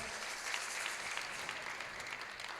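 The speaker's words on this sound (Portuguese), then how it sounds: "Queria pedir uma salva de palmas para o Matuzzi, que fez esse poema espetacular, que nos representa." An audience at a university swearing-in ceremony applauds a spectacular poem, a steady, dense wash of clapping from many hands that holds evenly throughout, moderately distant and without voices over it.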